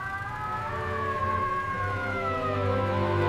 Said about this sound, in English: The loud sound is a siren.